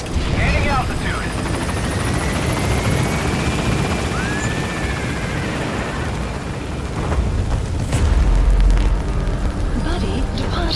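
A helicopter in the video game Metal Gear Solid V lifts off for extraction, its rotor drone loud and continuous under game effects, with a deeper rumble swelling near the end.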